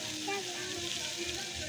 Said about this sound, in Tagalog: Atin muna po siyang gigisahin